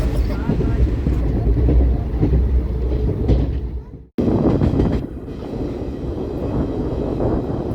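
The 22387 Black Diamond Express from Howrah toward Maithon rolls along with a loud, continuous rumble and rhythmic wheel clatter, briefly dropping out midway before resuming.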